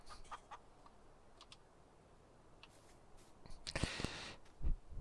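A chicken in the farming game Farming Simulator 19 gives a few soft, sparse clucks and clicks against a quiet background. The sound grows a little louder and busier near the end.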